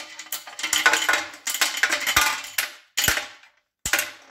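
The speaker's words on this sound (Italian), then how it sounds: "ora buttiamo dei dadi al suo interno e anche un po' di viti." Nuts, washers and screws tumble into a metal fuel tank being prepared for rust removal, giving loud irregular bursts of rattling, clinking metal with brief pauses between handfuls.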